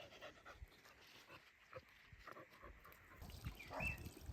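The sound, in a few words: dogs panting on a walk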